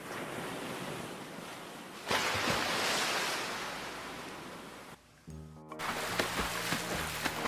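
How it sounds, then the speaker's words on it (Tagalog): Steady rushing surf of sea waves, swelling louder partway through, then a brief dip and a return of washing, wind-buffeted wave noise. "Iyan ang dagat, anak."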